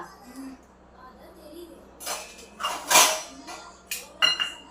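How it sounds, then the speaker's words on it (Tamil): A cucumber is cut in a home kitchen: a few scattered knife and utensil clicks and clinks come close, growing busier toward the end against quiet background. "இப்போதுக்கு குக்கும்பர் இருக்குது. ஸோ இதை தான் கட் பண்ணி கொடுக்க போகிறேன்"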